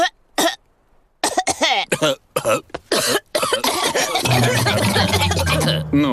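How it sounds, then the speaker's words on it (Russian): Adults in a Peppa Pig cartoon cough, loud close bursts of coughing and throat clearing in quick succession, ending in a sustained strained cough mixed with a voice. "все взрослые заразились кашлем от Педро"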